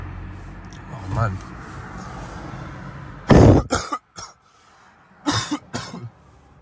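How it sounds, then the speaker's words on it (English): A few harsh coughs burst out close to the mic after a stretch of quiet talk, followed by a couple more short coughs. "Excuse my cough."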